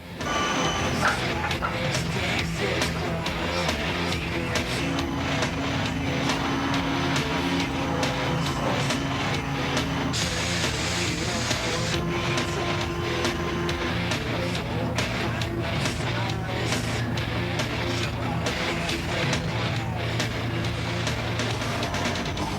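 In a factory, a machine scallops BMX parts two at a time, giving a loud, continuous whirring and grinding with dense mechanical clatter that holds steady for over twenty seconds.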